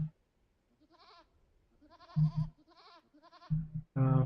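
Goats in a real-time strategy game bleat in a series of short, nasal calls, several overlapping and some louder and nearer, with quiet gaps between them.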